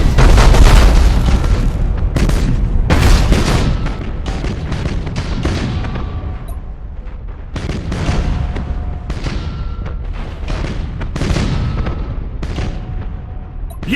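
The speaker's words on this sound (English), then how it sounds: "Fire all weapons." Spaceship weapons in the game Battlefleet Gothic: Armada fire in a loud, continuous barrage of booming blasts and cannon shots, with dense overlapping impacts that ease slightly but keep going throughout.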